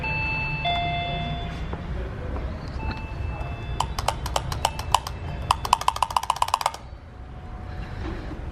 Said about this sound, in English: Just been ringing the bell back and forth.